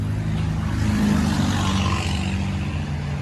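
A Chevy/GMC 5.3L V8 with a loud aftermarket exhaust revving while parked, a deep steady droning roar that swells slightly and holds for a few seconds.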